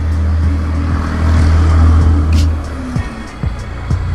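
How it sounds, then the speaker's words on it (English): A loud truck rumbles past outside a barbershop, a heavy low engine drone that swells and fades, with sharp clicks and small knocks near the end. "Man, that was a loud truck."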